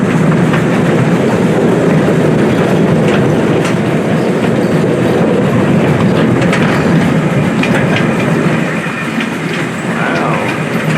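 A Union Pacific train rolls past nearby, beside a zoo in Alexandria, Louisiana, with a steady, heavy rumble and rhythmic clatter of wheels on track, continuous throughout with no talking.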